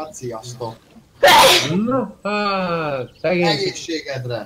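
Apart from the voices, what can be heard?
sneeze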